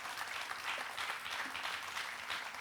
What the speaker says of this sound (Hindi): अपने लिए तालियां बहुत कम बजाई आपने